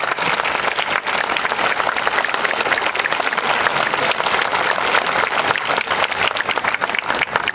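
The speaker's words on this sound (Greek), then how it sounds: "παρακαλώ χειροκροτήστε του." Loud, dense audience applause fills the hall in a steady, unbroken wash of clapping for several seconds with no talk over it.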